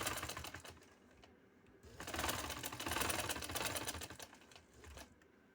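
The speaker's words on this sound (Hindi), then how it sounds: "सेंटर में मैं इसको सिलाई लगाने लगी हूँ" A sewing machine stitches a fabric border onto a neckline in short, quiet bursts of rapid mechanical chatter, close by, with brief pauses between runs.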